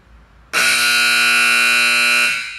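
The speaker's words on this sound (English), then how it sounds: "Whenever the shower or the eyewash is activated, an alarm will sound" An emergency shower and eyewash unit's audiovisual alarm switches on abruptly into a loud, steady, harsh electronic buzz, holding for about two seconds before fading slightly, alone.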